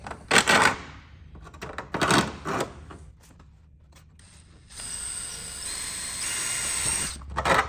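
Drill boring holes through an aluminum fuel tank rib for a RANS S-21 aircraft, short bursts of whirring and clicking, then a longer steady drilling run, close by with no talk.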